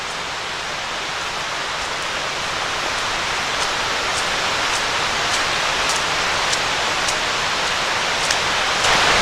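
Glade Creek in the New River Gorge rushes steadily in a lush green forest setting, a continuous broadband wash of flowing water holding even and close throughout with no voices.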